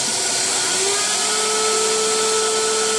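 A CNC machine drills through-holes in a printed circuit board with a steady, loud, high-pitched spindle whine and a sustained tone throughout, no voices.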